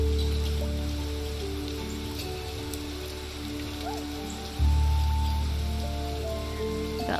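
Steady rain in the game Niche, a continuous soft hiss of falling drops close and even, layered over the game's ambient tones with a slight lift in level partway through.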